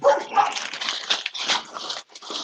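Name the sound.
dog barking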